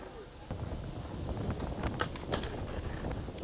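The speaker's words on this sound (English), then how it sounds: "the wind is really getting to everyone" Gusty wind buffeting the microphone at an outdoor skateboarding contest in New York City, a constant low rumble with sharper bursts, faint clacks from boards and distant voices underneath.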